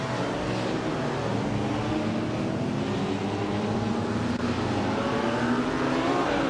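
1956 Maserati 450 classic sports car racing, a continuous loud engine drone with rising and falling harmonic pitch as it holds speed, up close and unbroken by talk.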